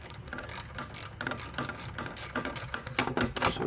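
A ratchet wrench loosens the hood latch bolts on a 2013 Hyundai Sonata 2.4L, making a rapid, close, continuous clicking of the pawl in short bursts, with no voices.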